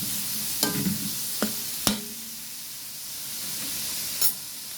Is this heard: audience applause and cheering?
no